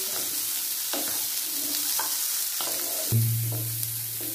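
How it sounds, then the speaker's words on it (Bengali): Cauliflower frying in a pan with carrots, cashews and raisins, a close steady sizzle punctuated by regular scraping stirs of a spatula, and a low steady hum coming in near the end; nobody speaks. "একটু সময় ধরে ভাজতে হবে।"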